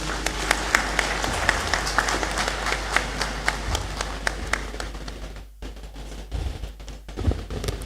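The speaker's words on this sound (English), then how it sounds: "Please let's give her another round of applause." An audience claps steadily at the close of a university congregation ceremony in a great hall, with dense, even applause that thins and then trails off into scattered claps.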